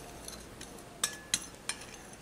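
A spoon clinks a few times against a bowl while cornflour and salt are stirred together dry, with sharp, separate taps that are mostly quiet and sit over a low background hiss.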